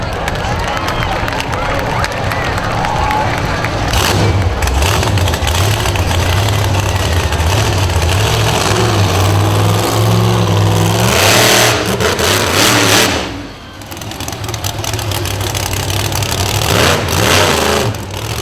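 A monster truck engine revs hard at a county fair show, a loud sustained roar with surging pitch over crowd noise and a public-address voice, dropping briefly before climbing again.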